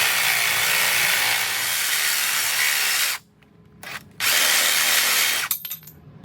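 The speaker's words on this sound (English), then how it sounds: "So we gotta chop this corner off" A power tool grinds loudly and steadily through a corner of a Honda J35 engine block, cutting off briefly, then roaring back before trailing into rattles.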